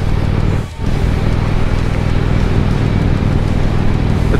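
A motorbike riding on an outback road: a loud, steady engine and wind roar right at the microphone, dipping briefly near the start then holding constant.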